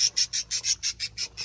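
High, shrill bird calls from adult breeding birds, including a white stud bird, repeat in a steady train of about ten sharp bursts, close and fairly loud with no talking.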